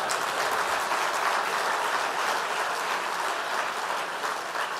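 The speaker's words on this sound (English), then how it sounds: "They deserve a round of applause." A round of applause from the audience at an ACS welcome event, a dense, even wash of many hands clapping that holds steady at moderate loudness with no talking.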